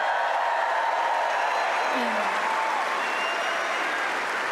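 A Wimbledon tennis crowd applauds and cheers on court, a loud, sustained wash of clapping from a large audience with faint voices rising through it.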